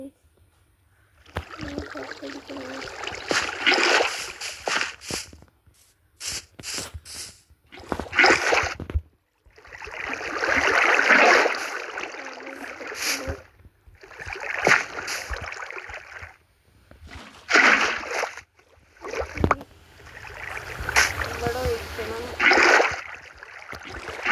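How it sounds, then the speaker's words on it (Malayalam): Water being placed and flowing in the game Minecraft while building a large crop farm, heard as intermittent splashing, gurgling bursts separated by short gaps, with a person talking over much of it. "എന്നിട്ട് ഞാൻ ഇവിടെ വെള്ളം ഒഴിക്കണം."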